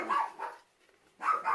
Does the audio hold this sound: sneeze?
no